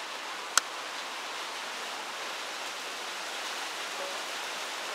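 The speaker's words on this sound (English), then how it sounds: "And now it's raining." Steady rain falling as an even, hissing wash of droplets, with a single sharp tap near the start and no voices.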